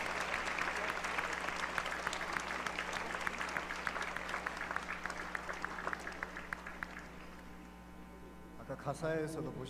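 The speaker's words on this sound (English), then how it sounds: "Let us give a big round of applause to the European region for their heavenly voices" A festival audience applauds a regional choir in a broad, sustained wash of clapping over a low hum, tapering off near the end as a voice begins to speak.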